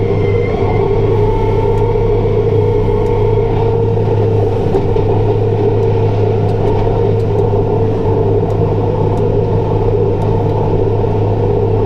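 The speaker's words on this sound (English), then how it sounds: "I'm not actually pointing the blower where I want the straw." Teagle Tomahawk straw blower driven by a New Holland T5.120 tractor, a loud, constant engine and fan drone with deep rumble that holds steady throughout, close by and without talk.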